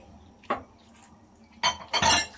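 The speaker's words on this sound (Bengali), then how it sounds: "এ পর্যায়ে তৈরি করে রাখা কাস্টার্ড পাউডারের মিশ্রণটি এর মধ্যে দিয়ে দিচ্ছি এবং অনবরত নেড়ে চেড়ে যাচ্ছি" A spoon stirs custard powder mixture into thickening milk in a pot, with one clink against the metal followed by two louder, scraping clatters near the end.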